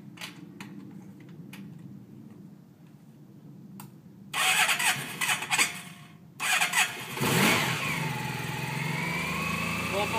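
A cold motorcycle engine cranks and fires up, then settles into a steady warm-up idle with a rising rev, loud and close, with a quieter mechanical hum beforehand.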